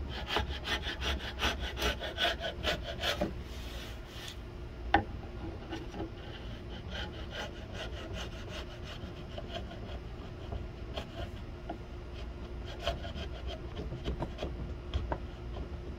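Sanding on a live edge wood floating shelf gives close, rhythmic, scratchy rubbing strokes that repeat steadily across the whole stretch, with no voices.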